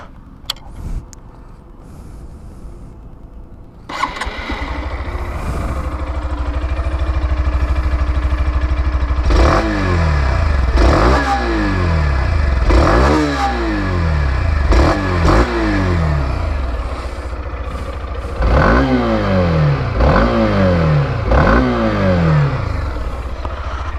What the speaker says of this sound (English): let me hear you the exhaust note of this